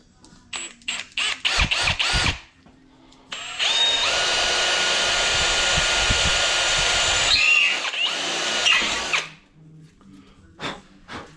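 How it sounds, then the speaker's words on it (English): A power drill bores into an engine part from a 1622 MGA race engine, with short trigger bursts first, then a long sustained whining run and a few final brief pulses, close and loud. "I drill a hole down the centre of two of them."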